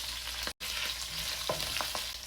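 Gailan Chinese broccoli and jalapenos stir-fry in a pan with a bright, continuous sizzle, cut by a brief gap near the start and followed by a few light scrapes and clacks.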